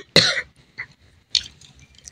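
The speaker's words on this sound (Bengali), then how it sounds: "একটু কাশির ক্লিপও দিয়ে দিলাম, সরি।" A single sharp, loud cough from someone narrating a home cooking session, followed by a softer throat sound and a brief second cough-like burst, with quiet room background in between.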